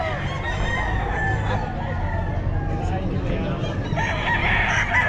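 A rooster crows amid a busy crowd at a pet market in Bocaue, Philippines, voices chattering and babbling all around it.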